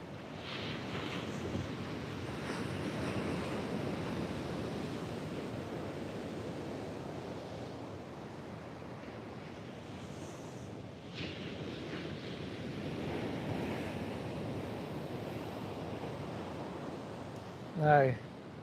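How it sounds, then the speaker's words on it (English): Waves break over the east wall of the Clarence River near Yamba in a steady rushing surge of surf, with wind buffeting the microphone and one brief louder knock near the end. "Let's just watch these waves come over the front"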